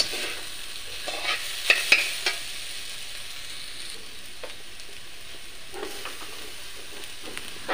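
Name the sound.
stirring bottle gourd peel in a pan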